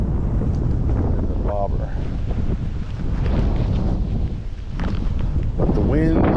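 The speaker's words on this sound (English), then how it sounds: "But the wind is not our friend today." Gusty wind sweeps over open water during a bluegill fishing trip, buffeting the microphone in rough, uneven bursts beneath a man's speech.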